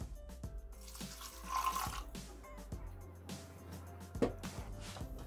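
Water poured into a Thermomix bowl while cooking sausage and potatoes, a steady running splash that sloshes and gurgles at moderate volume, without speech.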